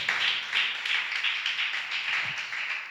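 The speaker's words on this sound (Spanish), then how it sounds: "Dale ese aplauso al Señor" A church congregation applauds together in steady, dense clapping that carries through the whole span at moderate loudness, with no voices over it.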